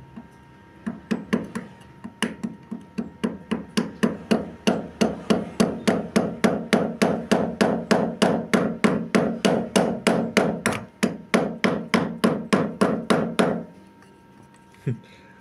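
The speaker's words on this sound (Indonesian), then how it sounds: "kita sudah bisa dorong sekarang pelan-pelan pakai kayu ya" Steady, evenly spaced knocks, about thirty in a row, as a piece of wood taps the rotary hook housing out of a computerized embroidery machine, close and crisp before stopping abruptly.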